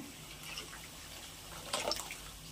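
A quiet simmer of fish curry, then a brief splash of tamarind water pouring in, close by, before it settles back to a low bubbling.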